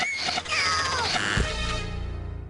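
A cartoonish cat meow from the You Don't Know Jack trivia game rings out, a drawn, pitch-sliding yowl that settles into a low trailing thud and fade.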